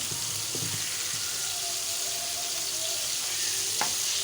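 One spoon each of garlic and ginger browning in hot oil gives a steady, close frying sizzle, with a few light clinks of stirring scattered through.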